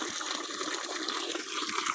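Water runs steadily from a village spout near paddy fields at dawn, a continuous close rushing splash with no break and no voices.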